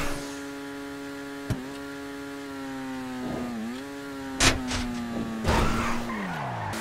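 Turismo supercar in GTA 5 revving with a steady engine drone that dips as it lands from a jump, with tire skids and sharp thumps of impact near the end.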